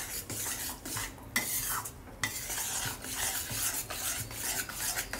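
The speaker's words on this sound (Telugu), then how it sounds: "ఇది ఉండలు లేకుండా కలుపుకుందాం." Spoon scraping and stirring sugar and oil in a pan for coffee Mysore pak, rhythmic close strokes against metal with a soft sizzle underneath, no voices.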